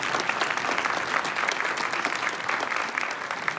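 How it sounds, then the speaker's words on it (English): An audience at a graduation ceremony applauds steadily, dense clapping from many hands that keeps going for several seconds at moderate loudness, with no voices over it. "Round of applause."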